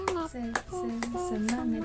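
Children in a classroom perform a clap chant, with sharp hand claps landing in a quick rhythm between sung chant phrases from a voice leading the group.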